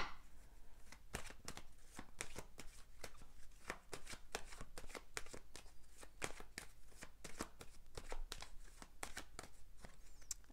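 Tarot cards shuffled by hand in a quiet room, a fast run of crisp riffling slaps and flicks repeating steadily throughout, close and fairly loud with no talking.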